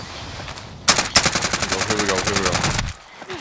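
Rapid burst of automatic weapon gunfire in the Warzone video game, loud and sustained for about two seconds, with players talking excitedly over it.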